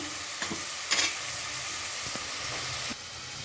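Finely chopped onions sizzle steadily in a hot pan with a constant hiss, broken by a few light clinks and scrapes of stirring. No voices.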